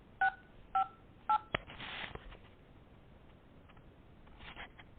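Three short keypad tones from a telephone dialing into voicemail, evenly spaced and clear over a quiet background, followed by a brief clatter and low room noise.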